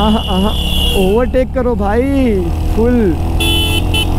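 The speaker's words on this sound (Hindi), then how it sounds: "हैवी हॉर्न के साथ।" A Royal Enfield Hunter 350 motorcycle's heavy horn honks repeatedly in short bursts over steady engine and traffic noise, with someone talking loudly throughout.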